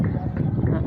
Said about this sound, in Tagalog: Ayun, cute yung kabayo.